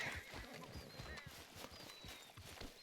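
Horse in Red Dead Redemption 2, quiet repeated hoof clip-clops at a walking rhythm with a faint snort or whinny, fairly distant and low in level.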